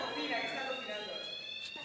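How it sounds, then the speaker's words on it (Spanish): An alarm goes off in an indoor public space, a steady electronic tone that keeps sounding throughout, with people talking over it. "¿Una alarma? ¿Falsa alarma?"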